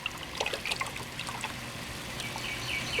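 Heavy whipping cream pours from a half-quart carton into a pot with a soft, steady trickle that thins into faint dribbling, quiet and close with no voices.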